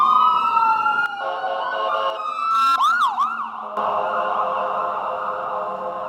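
An ambulance siren passes close by on a street, loud and insistent, sweeping up and down in a steady wail before breaking into faster rising-and-falling yelps, then settling back under the traffic hum.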